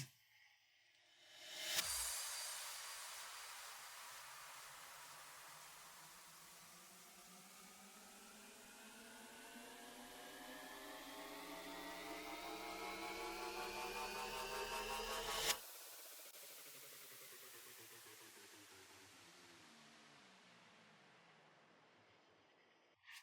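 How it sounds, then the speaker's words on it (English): Three layered transition effects in an FL Studio beat: a sharp noisy hit gives way to a long rising sweep of ascending tones, cutting off abruptly near the end before a fading tail, with no talking. "The last thing that I added to the beat were 3 transitions, and they sound like this together."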